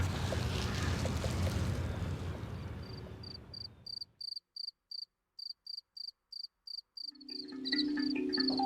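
Crickets chirp in rapid, evenly spaced pulses, first beneath a dense wash of insect noise, then clear and alone against near silence before the thicker chorus returns.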